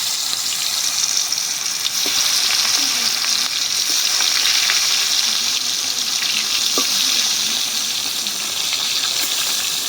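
Whole native koi fish fry in hot oil, a dense, loud crackling sizzle that holds steady from start to end with a few small pops and clicks.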